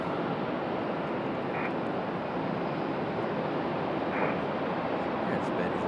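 A jet airliner taxiing toward the gate at Raleigh-Durham (RDU) airport, a steady broad engine roar with wind noise throughout, constant and fairly loud with no breaks.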